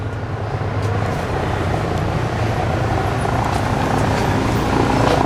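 A helicopter's rumbling drone fills the air over South Street in Philadelphia, steady and fairly loud, blended with broad outdoor noise and no one speaking.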